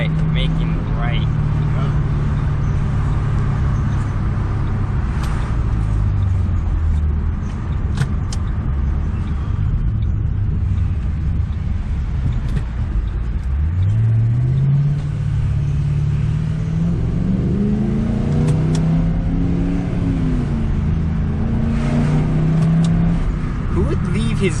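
A 2006 Ford Mustang's exhaust rumbles steadily from inside the moving car, with low drone rising and falling as it accelerates, while people talk over it throughout.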